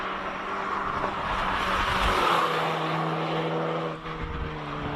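A BMW race car at a Speed Classic hill climb in Cape Town, droning past at a distance with a sustained engine tone that swells and then fades, with no talking.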